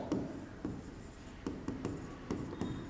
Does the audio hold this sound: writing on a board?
yes